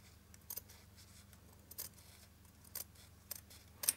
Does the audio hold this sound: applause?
no